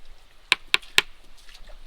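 Rocks tap together in a forest, copying a knocking heard somewhere far off. Three sharp, close clicks come in quick succession over quiet background noise.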